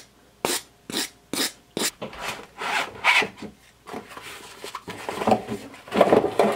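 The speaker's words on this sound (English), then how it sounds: "So the file card, you just take it and brush your file." Wire file card brushing filings out of a file's teeth in a series of close, rhythmic scraping strokes, quick and regular at first, then longer and more uneven rubs.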